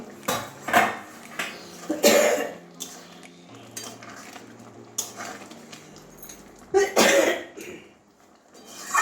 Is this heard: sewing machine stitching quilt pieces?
no